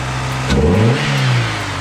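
A Porsche 944 engine fitted with a cone-style air filter revs once, loud and close, its note swelling and then settling back toward idle.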